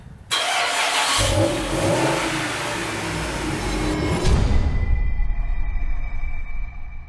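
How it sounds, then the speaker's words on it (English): A Jeep SRT8 engine fires up and revs as the vehicle pulls away on a short drive to warm the oil, a loud, steady mid-pitched roar that drops off abruptly near the end. "the first thing I need to do is warm up the oil by taking it for a short drive"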